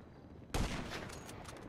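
A single loud, booming sniper rifle shot in GTA V Online, followed by a long roaring tail of echo and game noise.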